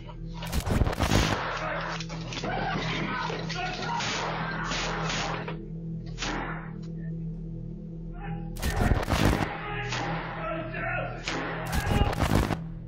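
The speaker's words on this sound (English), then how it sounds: "gunshots pierced through the air" Several bursts of loud gunfire crack out in a residential neighborhood, captured by a doorbell camera, a rapid cluster at the start and more near the end, over a low hum with muffled background voices.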